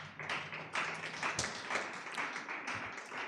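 An audience at a weekly press and public engagement event claps for two people, a steady close wash of handclaps lasting a few seconds with no talk over it.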